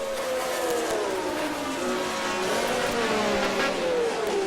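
Historic race cars at a Gran Premio de la Republica Argentina historic racing round, including a Ferrari, with a loud sustained engine note sweeping down in pitch as a car passes and pulls away on track.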